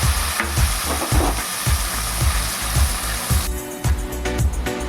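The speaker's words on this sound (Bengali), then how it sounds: "একটু নেড়ে ছেড়ে পেঁয়াজ বাটাটা দিয়ে দেব" Onion paste fries in oil in a kadai with bay leaves and whole garam masala, a loud continuous sizzle broken by regular scraping strokes of a stirring spoon.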